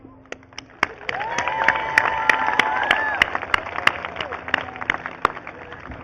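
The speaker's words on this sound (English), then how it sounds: "we must give a round of applause for one another" A graduation audience applauds with scattered, sharp claps that build and then thin out, with a murmur of crowd voices and cheering underneath.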